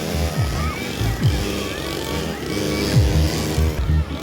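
Small 49cc mini motorbike engines rev and whine in a race final, their pitch rising and falling under a lively crowd and excited voices talking throughout.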